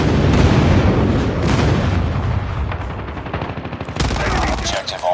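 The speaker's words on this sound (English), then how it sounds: "Friendly airstrike incoming." Heavy Call of Duty Mobile team-deathmatch battle against AI bots, with airstrike blasts and rumbling booms mixed with steady bursts of gunfire, loud and continuous, plus a crisp volley of rapid shots near the end.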